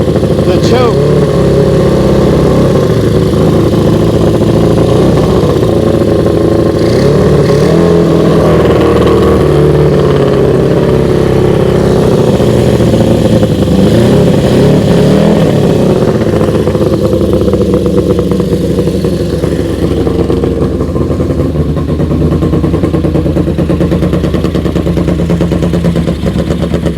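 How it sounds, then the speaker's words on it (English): A Honda CB350 Four with loud pipes runs steadily nearby. Its multi-cylinder exhaust keeps a deep, continuous drone for the whole stretch and rises and falls slightly around idle. "Sounds pretty good. Let me turn it off. It's loud. These pipes are loud."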